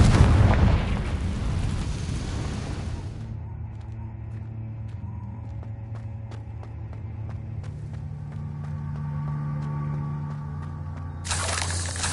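A Confringo fire spell from Hogwarts Legacy bursts loudly and broadly at the start, then fades into a low sustained rumble and crackle with scattered small pops, before another blast flares near the end.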